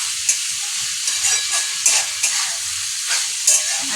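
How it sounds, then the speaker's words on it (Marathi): Salted cabbage being mixed in a pan for a cabbage bhaji, a soft steady sizzle with periodic scraping strokes and small spatula knocks, close, with no voices. "त्याला छानपैकी असं मिक्स करून घ्यायचं आहे"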